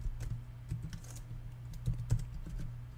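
Code being typed on a computer keyboard, a steady run of soft, quick clicking keystrokes close by and quiet, with small uneven pauses between bursts and no talking.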